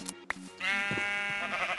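A sheep in Minecraft bleats once in a long, wavering cry lasting over a second, loud and close, preceded by a couple of brief clicks and faint background tones.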